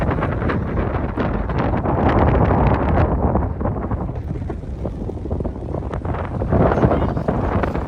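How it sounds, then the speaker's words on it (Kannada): Strong wind buffets the microphone in continuous loud gusts at the KRS reservoir backwaters near a temple in Mysore, a rough low rumble with no voices, swelling and easing across the whole stretch. "ಬರೀ ನಿಮಗೆ ಗಾಳಿ ಸೌಂಡೇ ಕೇಳಿಸ್ತಾ ಇರ್ಬೇಕು ನೋಡ್ರಿ"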